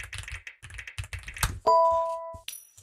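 Computer keyboard keys clack in short uneven bursts, then a bright sustained ding rings out.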